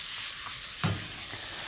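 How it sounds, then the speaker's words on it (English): Prawn fried rice with soy and oyster sauce sizzles in a hot pan while being stirred, a steady close hiss with a brief scrape of the utensil partway through. "a little bit of this oyster sauce, and you can just stir all this in"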